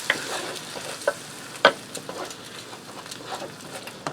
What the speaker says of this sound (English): I'm going to stir that around into the rice